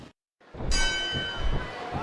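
Wrestling ring bell in WWE SmackDown vs Raw 2009, a bright ringing tone with a long shimmering decay that sounds once after a brief silence, under an announcer's talk.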